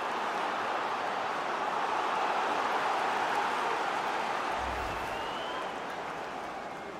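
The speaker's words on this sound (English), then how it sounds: "there's not been much to cheer about for a while, but they're certainly getting behind them here." Stadium crowd at a 2024 MLS soccer match between Colorado Rapids and Vancouver Whitecaps, roaring and cheering in a dense, sustained wash of noise that swells slightly and holds for about seven seconds with no talk over it.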